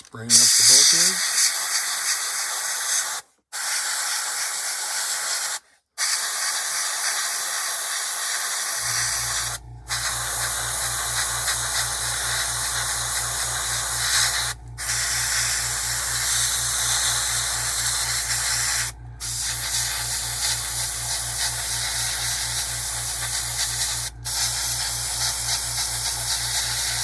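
Steady hissing spray from an airbrush painting the bulkheads of a 1/48 scale B-25J model kit runs almost continuously, broken by a few short pauses, with a low hum underneath.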